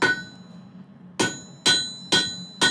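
A hammer strikes steel four times while forging a firesteel, each blow a sharp, bright ringing clang that decays over a fraction of a second, spaced roughly half a second apart after a quiet opening.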